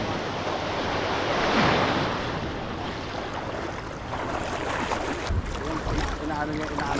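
Sea waves break on the beach at Dinadiawan with a steady, loud wash of surf and wind buffeting the microphone, swelling around the second second, with no clear talk.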